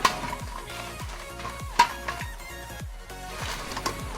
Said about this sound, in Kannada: ನಾನು ಬೇರೆ ಬೇರೆಯಾಗಿ ಇದನ್ನು ಫ್ರೈ ಮಾಡ್ತಾ ಇದ್ದೇನೆ